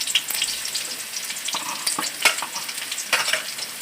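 Garlic sautés in a hot pan with a steady bright sizzle and crackle, broken by a few louder stirring scrapes, close up and with no voices.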